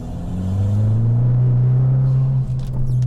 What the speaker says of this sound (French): On va tenter une petite accélération pour essayer de voir un peu la puissance de cette voiture